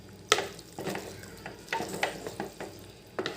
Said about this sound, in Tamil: அது நல்லா ஒரு வதக்கி விட்டுட்டிங்கன்னா